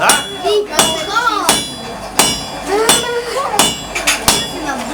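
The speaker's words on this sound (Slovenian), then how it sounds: "za bolj vroče železo bomo vzeli bolj veliko kladivo, pa bomo bolj udarili" A blacksmith strikes hot iron with a big hammer, landing about seven loud, ringing metallic blows at an even pace while someone talks between the strikes.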